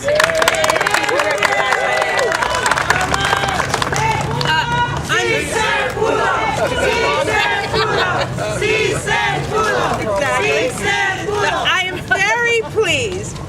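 A crowd at a New York City press conference on paid sick days cheers and shouts loudly, with scattered clapping mixed into a dense, steady roar of many voices throughout.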